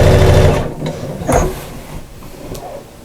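A sewing machine runs steadily, stitching straight across the front of a fabric shopper bag, with a continuous close whirring hum that eases off slightly toward the end.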